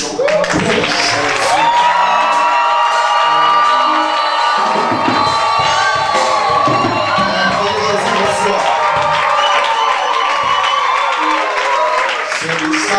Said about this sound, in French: faire trembler les murs avec nos acclamations pour Jésus